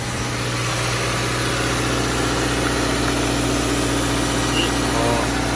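Steady running of a car air-conditioning compressor while the engine idles during an AC vacuum and recharge, a continuous low mechanical hum and vibration with no pauses or talk.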